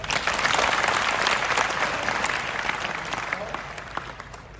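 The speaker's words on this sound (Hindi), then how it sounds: "तालियां बजाते रहो बच्चे।" Children applaud together at a school institution address, a dense sustained clapping wash that swells early and gradually thins toward the end.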